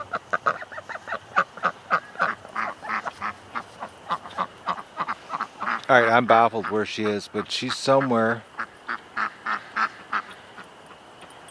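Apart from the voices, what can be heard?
duck quacking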